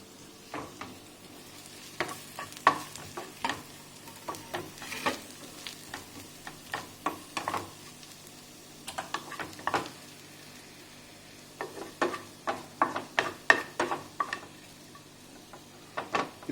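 Onions frying in oil in a pan while being stirred, a soft sizzle under repeated scraping and clinking of the utensil against the pan in irregular bursts.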